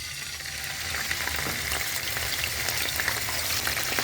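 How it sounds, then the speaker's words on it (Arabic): Breaded chicken cutlets fry in hot oil with a steady, dense crackling sizzle that swells slightly after the first second and holds fairly loud and close throughout. "هنحط بقى البانيه،"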